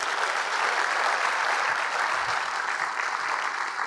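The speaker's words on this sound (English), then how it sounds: "So let's give Haley and the team at the Long Beach Business Journal a big round of applause." Audience applause at a Long Beach civic business event fills the room, a thick continuous wash of clapping from a large crowd with no speech over it.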